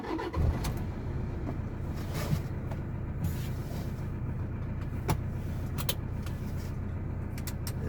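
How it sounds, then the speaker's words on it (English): Interior of a Toyota Innova 2.5 G pulling away and driving, a steady engine and road drone filling the cabin with a few light clicks and knocks over it, no talk. "Take this out for a drive and see how good a Toyota Innova drives."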